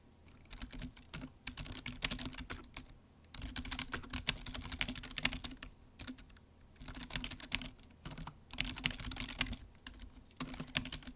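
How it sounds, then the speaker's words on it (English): Typing on a computer keyboard during a hurricane livestream, bursts of rapid close key clatter separated by short pauses, with no talking. "I do apologize if you guys hear my typing."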